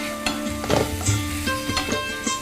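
Ingredients stirred and sizzling in a hot pan on an Indian cooking show, with close scraping and stirring clatter over a soft frying hiss.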